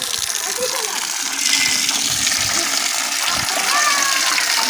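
Water splashes and gushes steadily into a container being filled for temple puja at Holi, with a voice and other chatter faintly mixed in the background.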